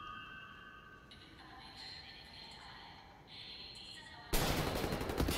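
Enemy gunfire in the video game Wolfenstein: The New Order, with a sudden loud, dense burst of shots near the end that cuts through steady, tonal game sound.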